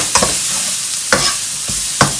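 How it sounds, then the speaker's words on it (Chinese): Garlic stir-fries in plenty of hot oil in a large wok over a loud, continuous sizzle, punctuated by three sharp scrapes of a spoon tossing it, close and without speech. "边炒出香味"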